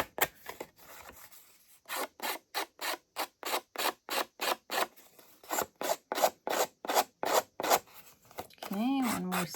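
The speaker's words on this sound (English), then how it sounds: "So you can see how it starts to fray the cardstock." Cardstock edges are rubbed repeatedly to fray them, producing a fast series of loud, scratchy rasping strokes in a steady rhythm, close up, with a voice briefly at the end.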